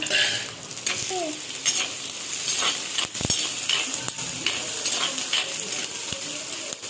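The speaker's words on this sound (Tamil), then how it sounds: "வச்சுருந்த வெங்காயத்தை போட்டுக்கலாம். போட்டு வதக்கி விட்டுருங்க." Onions and green chillies sauté in a pan for fish curry, a steady close sizzle broken by scrapes and knocks of a spoon stirring, with no talk over it.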